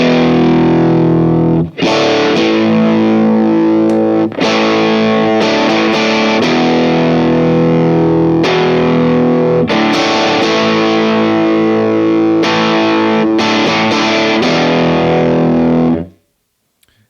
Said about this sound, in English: Let's hear it with the super feedbacker and distortion.